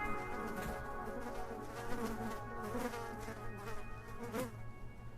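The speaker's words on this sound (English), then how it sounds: "I can hear a fly buzzing." A fly buzzes steadily close by indoors, a continuous droning hum that wavers slightly in pitch as it moves, heard alone without speech for several seconds.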